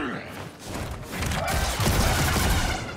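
Gunfire in Star Wars Jedi: Survivor during the Rayvis boss fight: a dense, rattling burst of blasts and thuds that thickens and grows louder toward the end, with mechanical clatter mixed in.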